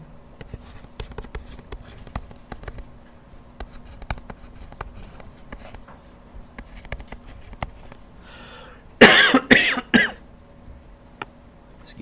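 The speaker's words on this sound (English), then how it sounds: "Apologies to those of you on YouTube if I coughed into your headphones." A single adult in a classroom coughs and clears his throat in a short, loud burst of several harsh coughs, standing out from quiet room noise with faint tapping and writing sounds around it.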